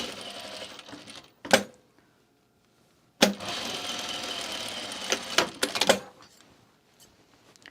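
Sewing machine stitching a sleeve with added ease: a brief burst, a pause of near silence, then a longer steady run broken by clicks and handling knocks before trailing off.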